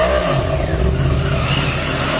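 A Yamaha R1 sport motorcycle engine revs loudly and close up, a sustained rising and falling roar with no voices.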